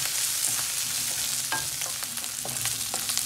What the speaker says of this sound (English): You just fry them till they go translucent